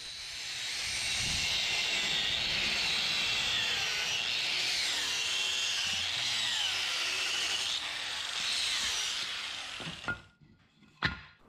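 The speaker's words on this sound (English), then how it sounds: "next I'm going to wire brush the surface of the hammer, bring out that nice forged finish" A power wire brush scours the surface of a hand-forged hammer head in the workshop, a loud, continuous scratchy whir that rises and dips with the pressure before cutting off near the end.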